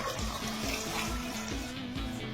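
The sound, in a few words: water poured into cooking pot for dalma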